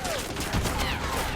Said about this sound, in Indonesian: menghindari tembakan itu